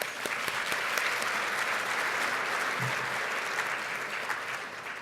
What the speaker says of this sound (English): Let's give one more applause for Ms.